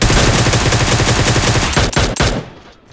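Rapid Groza assault rifle bursts in PUBG, loud and close, a steady stream of sharp cracks that breaks into a few heavier final shots before dropping to quiet game ambience.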